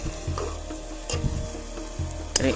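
Pork simmers and fries in a pan over low heat, giving a close, continuous sizzle and bubbling, with a few utensil scrapes and clinks against the pan and no talking.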